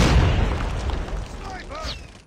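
A grenade explodes in the mobile shooter game Call of Duty: Mobile, a loud, deep boom that decays through a rumbling tail, with brief shouted game voices in the mix.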